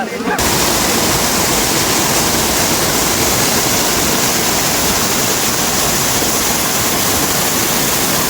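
Kusaloya waterfall in Parvathipuram Manyam, India, roars loud and constant over rocks, a dense, unbroken rush of falling water from start to finish.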